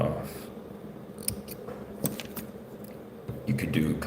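Scissors snip material at a fly-tying bench, a few sharp close clicks and crisp cuts in quick succession against a quiet room.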